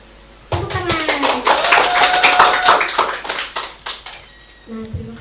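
A group claps together to welcome guests at a school event with a special education school for deaf students, loud and steady applause over about four seconds that fades out, with a short burst of talk at the end.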